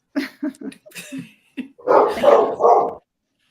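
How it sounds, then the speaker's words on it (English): A household dog barks several times close by, a quick run of sharp yips followed by longer, louder bark-howls, with no talk over it. "Sorry, my dog is barking."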